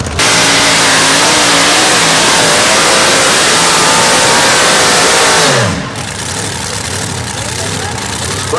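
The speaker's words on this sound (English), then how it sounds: "The aircraft engine likes this cool air." An aircraft-engine tractor roars down the track at a tractor pull, a loud sustained close-up drone that drops off sharply near the end into quieter background noise.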